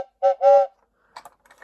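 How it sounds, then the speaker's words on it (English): Two short toots sound from the air whistle of a toy Lionel train engine as someone blows into it, a brief hollow tone up close followed by a few faint clicks. "you can actually blow into it, make the whistle activate"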